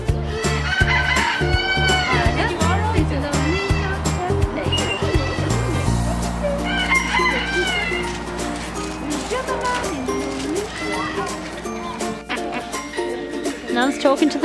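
Chickens cluck and a rooster crows amid a busy farmyard mix of bird calls, with a person's voice talking over the birds throughout.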